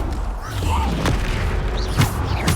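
Descendo spell impact in Hogwarts Legacy: a deep, loud boom with rumbling low end, followed by sharper cracks and magical whooshes over a steady background roar.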